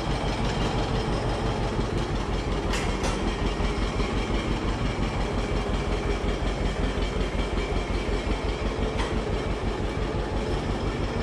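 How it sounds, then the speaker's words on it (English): A John Deere tractor towing a 1973 Opel GT, its engine giving a loud, close, steady drone with a rhythmic chugging pulse that runs unbroken throughout, with no voices. "This is definitely a first tractor pulling an Opel."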